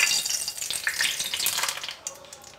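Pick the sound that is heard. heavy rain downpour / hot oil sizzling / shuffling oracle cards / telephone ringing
hot oil sizzling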